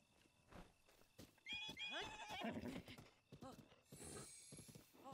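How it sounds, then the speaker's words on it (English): In the video game Breath of the Wild, a horse lets out a loud whinny, with rhythmic hooves clip-clopping close by and a voice talking over the sounds. "I got a horse."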